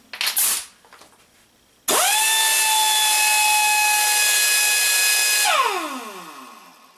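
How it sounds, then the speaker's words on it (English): An Ingersoll Rand 2235 air tool starts abruptly, runs with a loud, steady high-pitched whine for about three and a half seconds, then winds down as the air is released. "I also have an Ingersoll Rand 2235. Let's just test that out to see how loud it is."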